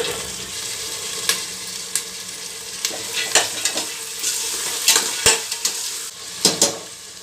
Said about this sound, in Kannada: ಕಡಲೆಕಾಳು ಎಣ್ಣೆಯಲ್ಲಿ ಸ್ವಲ್ಪ ಫ್ರೈ ಆಗಬೇಕು